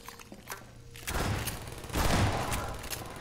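Turrets in Half-Life 2 open fire in two loud, dense bursts of rapid gunfire, the second stronger, following quieter game sounds.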